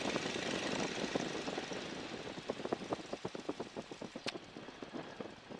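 A 1942 Stearman biplane's radial engine runs steadily during a magneto check, a continuous rumble that breaks into a rhythmic run of distinct pulses toward the end, fairly close and moderately loud with no talking.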